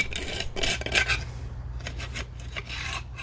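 Crud is scraped and dug off a 1977 Corvette C3 lower control arm, a run of harsh rasping strokes close up, uneven in rhythm with short pauses between bursts.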